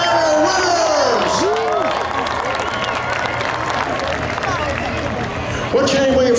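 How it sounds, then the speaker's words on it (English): Crowd at a Memorial Day thrill show in Seekonk cheering and clapping for the winners of a wheelbarrow push race, a dense continuous roar of applause and shouts with a voice talking over it. "Another round of applause for our first ever wheelbarrow winners"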